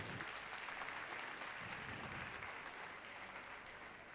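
Steady applause from an audience for a group of children at a foundation day event at Ab Normal Home, dense clapping holding at a fairly even level throughout with no talk over it.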